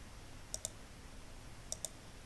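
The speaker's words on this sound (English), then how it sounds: "Simply right click on row 8" Two quick double clicks of a computer mouse, each a pair of light, sharp taps close together, faint against a quiet background hiss.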